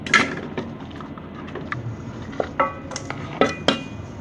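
Pieces of beef, about 1.5 kilograms, are dropped into a metal degchi cooking pot, giving a series of soft thuds and sharp metallic clinks and scrapes, close and unaccompanied by talk.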